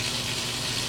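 A kitchen tap runs steadily during freezing weather while its water line is partly frozen, giving a continuous hissing trickle of water that stays close and even throughout, with no talking.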